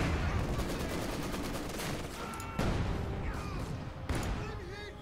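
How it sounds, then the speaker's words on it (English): Mortar shells burst in the Company of Heroes 2 strategy game amid a steady din of battle, with sharp explosive impacts near the middle and end of the stretch and small-arms fire crackling underneath. "They get wiped here from mortar shells."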